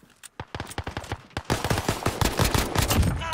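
Gunfire in the video game Call of Duty: Warzone, scattered single shots giving way to dense rapid automatic bursts that grow louder and continuous, with no talking.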